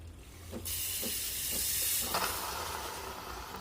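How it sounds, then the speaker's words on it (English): A loud, steady hiss of steam blasting from a Breville Barista Pro espresso machine's steam wand being flushed, starting abruptly and continuing with a rough, sputtering texture that thins slightly toward the end. "make sure you clean the steam tip immediately with wet cloth and you flush it"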